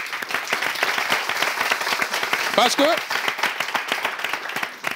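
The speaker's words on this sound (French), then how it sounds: "Je demanderai à tout un chacun, pour finir, de faire une salve d'applaudissements" An audience at a live dance event breaks into a salvo of applause, dense clapping throughout with someone speaking over it in French.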